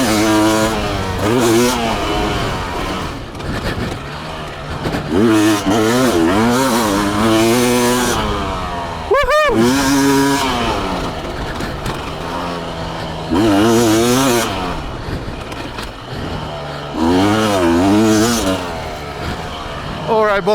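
A 2026 RIEJU MR 300i PRO motorcycle ridden on a moto track: the engine revs up and down again and again, with one sharp, loud burst near the middle, and a voice talks over parts of it.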